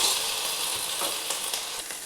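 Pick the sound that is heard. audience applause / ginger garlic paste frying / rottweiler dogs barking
ginger garlic paste frying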